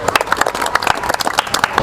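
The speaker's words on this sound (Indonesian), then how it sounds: "Beri tepuk tangan untuk kita semua." Brief, dense clapping from a small group, sharp irregular claps packed close together, moderately loud and nearby.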